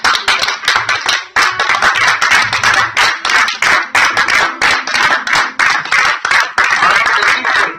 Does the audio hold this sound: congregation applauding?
yes